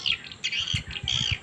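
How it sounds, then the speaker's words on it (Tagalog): Birds squawking and chirping in shrill bursts at a small farmhouse, several calls overlapping close by, with low thumps beneath. "Yan yung ibon-ibon natin, guys."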